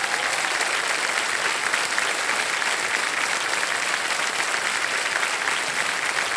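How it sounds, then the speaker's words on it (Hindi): A studio audience on the Hindi TV quiz show Kaun Banega Crorepati applauds a contestant, sustained, even clapping that fills the room for several seconds without speech. "यस ताली बज जाए"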